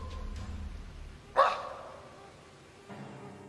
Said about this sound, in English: one of the most chilling noises is that of a growl or a bark